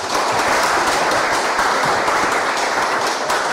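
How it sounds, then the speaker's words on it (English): Audience applause at a Government of Canada event, with steady sustained clapping from a full crowd throughout, loud and dense without pauses. "give your hands a little round of applause for the Honourable Sean Fraser"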